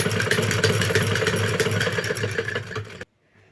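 A sewing machine stitches a blouse sleeve with a fast, even mechanical whir and clatter, close and steady for about three seconds before it stops abruptly into near silence.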